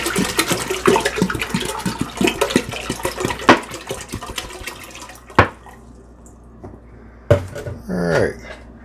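Water pours and splashes into a pot while making mixed berry wine, a continuous close gushing that ends around the middle, followed by a few sharp clunks and a short burst of faint movement.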